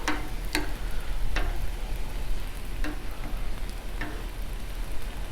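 Shrimp and kebabs sizzle on a Blackstone griddle just after flipping, a steady, soft frying hiss broken by a few sharp ticks and pops.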